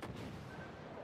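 Naval guns fire in World of Warships Legends, a quiet burst of rumbling cannon blasts from a warship in battle.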